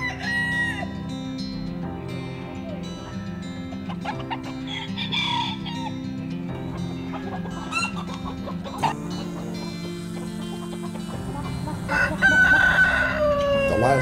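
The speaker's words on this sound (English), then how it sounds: "the chickens which roam the streets" Several chickens cluck and chatter continuously while a rooster crows loudly near the end, set against steady outdoor street background noise.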